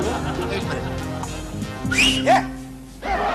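Someone whistles at a door in place of a doorbell in a Hindi comedy sketch, giving two short rising whistles close by. People talk throughout, and there is some dog-like noise in the background.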